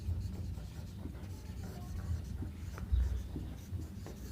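Chalk or marker scratching out a definition on a classroom board during a physics lesson on permittivity, a soft, steady scraping close by with occasional firmer taps.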